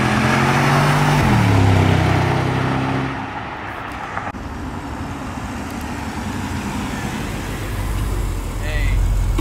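A Porsche sports car engine with its stock exhaust revs and rumbles nearby, then settles into a steady drone with road noise, while people talk over it.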